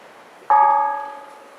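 A single struck bell on an island in Chiba, Japan, rings out with a sharp onset and a bright sustained tone that slowly decays, heard up close with no talking.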